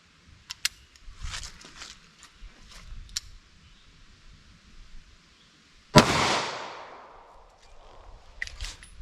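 A snubby .22 LR revolver fires a single sharp shot of CCI Uppercut ammunition near the middle, cracking loud and close with a short decaying tail, surrounded by faint clicks and handling sounds during a ballistic test.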